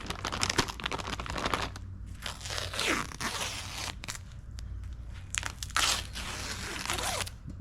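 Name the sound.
peeling peel ply off fiberglass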